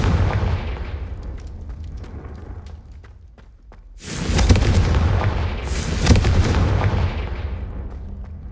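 Confringo blasting spells going off in the video game Hogwarts Legacy: loud booming explosions over a rumbling background, a first burst at about the midpoint and a second heavy blast shortly after, then a sustained noisy roar.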